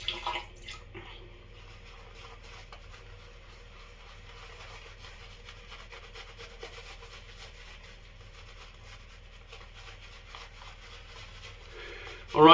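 A 21mm Mühle shaving brush dipped in water and worked over Grapefruit & Mint shaving soap produces faint, continuous rubbing and swishing with soft wet squelches, quiet and close, ending in a louder burst.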